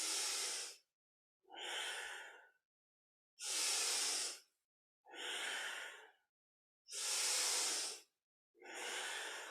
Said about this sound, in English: Keep that breathing pattern of inhaling forward and around, exhaling back and around.